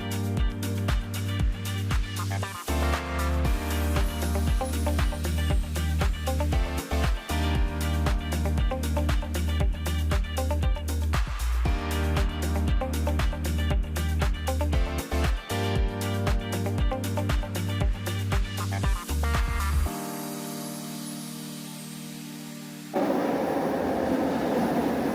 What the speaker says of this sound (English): I'm going to experience how is it like to take the LRT from here to Mid Valley